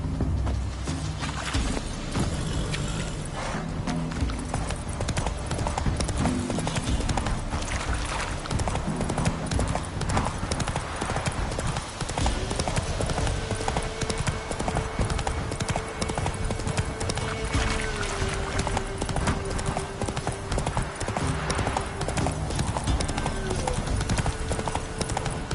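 Roach the horse trotting in The Witcher 3, hooves clip-clopping in a steady even rhythm throughout, with occasional snorts over a loud continuous game soundscape and a sustained musical tone in the middle stretch.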